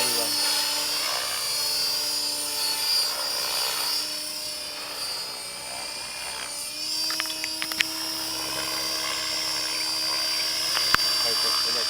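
A helicopter hovers or flies near a house, a steady whining rotor and turbine drone that holds throughout with a few clicks and knocks, while people talk over it.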